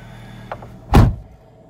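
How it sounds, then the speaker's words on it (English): The door of a silver 2009 Fiat 500 Lounge 1.2 automatic is shut nearby, with a faint click followed by a single solid, close thud, and no speech. "shut the door."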